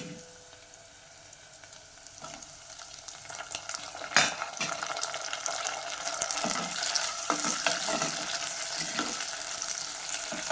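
Onions and tomatoes sautéing in a pan for a banana curry, a soft sizzle with scraping stirs and an occasional sharp clink of the spoon, close and fairly quiet, growing busier partway through.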